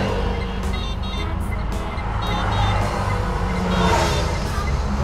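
A Nissan electric car's approach warning sound, repeated short high electronic tones in a steady pattern over constant road and traffic rumble, moderately close.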